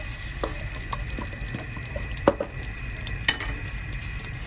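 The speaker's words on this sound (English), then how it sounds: "Okay, kita tumiskan dia. We saute this for a bit." Mustard seeds, garlic and ginger sauté in hot oil for a tamarind fish dish, giving a steady soft sizzle with scattered light pops and a couple of sharper clicks from stirring, close and continuous with no talk.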